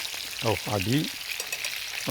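Salmon sizzles steadily in hot oil, a constant crackling hiss, while a short sound that resembles a voice rises briefly over it.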